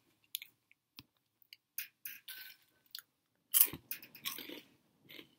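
Crunchy veggie straws being chewed and bitten during a late-night mukbang, heard as scattered close crisp crunches and clicks separated by short silences, with a denser burst of chewing near the end.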